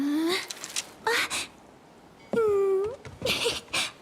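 A cat in Honor of Kings gives several distinct meows, some drawn out and wailing, separated by short pauses, close up and with no talking.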